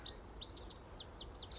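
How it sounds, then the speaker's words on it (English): Small birds chirping in open fields, a series of quick high tweets repeating every fraction of a second, faint and somewhat distant over a soft steady background. "Quite a few birds around,"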